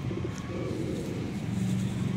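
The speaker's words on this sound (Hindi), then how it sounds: "बहुत कमाल का कबूतर" A teddy-breed pigeon coos in low, steady, murmuring tones close by, holding on through the clip with no talk over it.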